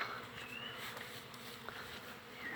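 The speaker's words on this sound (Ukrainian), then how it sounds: "О, пчолки наносили." Honeybees flying in and out at a hive entrance, a steady close buzzing drone with a few louder individual bees passing near.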